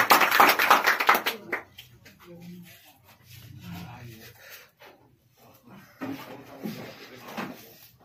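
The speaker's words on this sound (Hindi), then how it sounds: "एक बार जोर से तालियां हैं इनके लिए।" Audience clapping at a Teachers' Day celebration at a coaching institute, a brisk burst of claps at the start that fades out, with quieter clatter and a second smaller round of clapping later.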